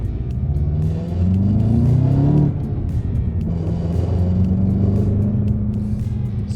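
A 2025 Volkswagen Jetta GLI with a manual transmission, front-wheel drive and an electronic limited-slip differential accelerates hard, its engine note loud and droning as it climbs through the revs, dips at a shift and pulls again.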